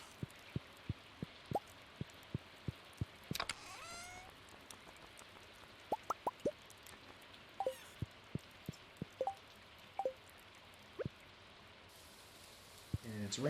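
Rain in a farming video game, falling as a steady soft hiss with sharp, evenly spaced drip-like ticks throughout, joined by occasional brief chimes of game effects.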